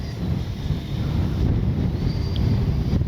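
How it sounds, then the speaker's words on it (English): Gusty wind buffets the microphone outdoors at an RC jet flying field, a steady low rumbling roar that swells and surges throughout with no voices over it. "it's suddenly gotten very windy."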